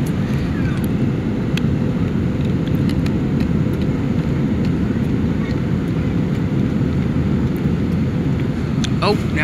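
Inside an EasyJet Airbus A319/320 during its landing descent, a dense, steady low roar of engines and airflow fills the cabin without a break, with faint clicks and rattles above it.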